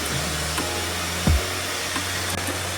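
A Yoole hair dryer runs on its hottest setting, a steady close broadband whoosh with a low motor hum and one brief louder bump partway through, with no talking.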